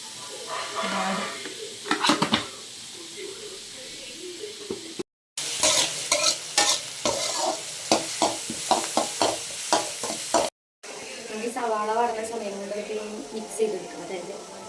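Sliced onions frying in a pan, with a spoon scraping and clattering against the metal in repeated strokes over a constant sizzle; a voice talks throughout.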